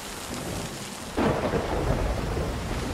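A thunderstorm rolls across the sea in the video game Sea of Thieves: steady rain hiss, then a sudden loud thunder crash about midway that rumbles on, heavy and close, with no voices.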